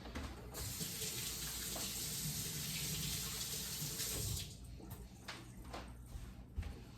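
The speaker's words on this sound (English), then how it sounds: "Oh, I forgot an important part, washing my hands." A kitchen tap runs steadily while hands are washed during pork chop preparation, a close, even rush of water that cuts off partway, leaving faint splashes and clatter.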